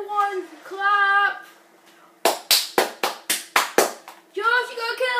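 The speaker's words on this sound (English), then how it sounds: "Everyone's clapping." A handful of sharp, separate hand claps in an uneven rhythm, close and loud, bracketed by a voice talking before and after, while Modern Warfare 3 survival mode is played.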